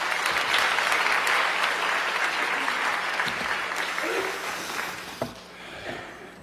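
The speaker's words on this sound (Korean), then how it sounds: "박수로 환영하겠습니다." Audience applause fills a church hall to welcome a pastor lecturing at a Holiness Church event. Dense, steady clapping runs for several seconds, then thins and fades near the end with a few scattered claps.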